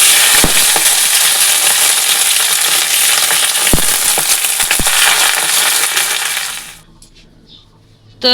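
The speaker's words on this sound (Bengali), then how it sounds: "এই যে ফোড়নে দেবো তেজপাতা, শুকনো লঙ্কা, 5 ফোড়ন পুঁই শাকের জন্য" A loud, dense sizzle of bay leaf, dried chilli and five-spice tempering frying in hot oil, with a few sharp clicks, before it suddenly drops to near silence at the end.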